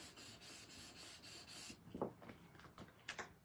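Paper card rubbed firmly by hand during Copic coloring and card making, a steady close scraping swish for under two seconds, then a few sharper, louder rubbing strokes and light handling scuffs.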